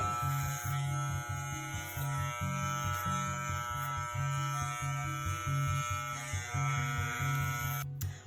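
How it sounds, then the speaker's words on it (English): Electric hair clippers fitted with a number 1 guard buzz steadily while trimming the sides of a head during a haircut, a close, continuous electric hum with slight pulsing as the blades move through the hair. "I typically start with a number 1 guard on my clippers"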